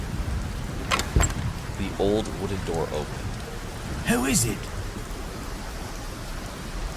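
Video-game storm rain hisses steadily in the background while voices speak over it in short spoken lines.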